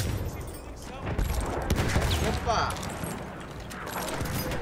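Battlefield 1 gunfire, a rattle of rapid shots and sharp cracks mixed with in-game clatter, moderately loud, while a player speaks briefly over it.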